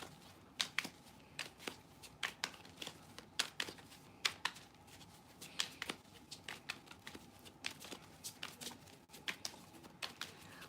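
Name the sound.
shuffling tarot cards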